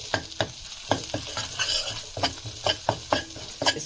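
Ginger garlic paste with turmeric lightly frying in a pan, stirred in quick, regular scraping strokes over a soft, steady sizzle, close and clear with no voices.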